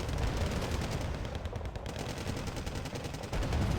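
Cannon fire in the Wargame Red Dragon strategy game, rapid rattling bursts of shots that keep up a dense, continuous clatter at moderate level.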